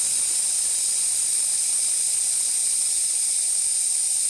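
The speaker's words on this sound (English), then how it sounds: "So you can open the steam wand now." A Gaggia Classic espresso machine's steam wand lets out a steady, loud, high hiss of steam that holds evenly throughout without a break, with no voices over it.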